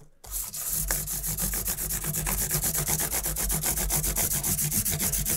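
Mandolin frets on a Washburn instrument are polished by hand with a steady back-and-forth rubbing stroke, a close, rhythmic scratchy swish repeating quickly and evenly, with no talking.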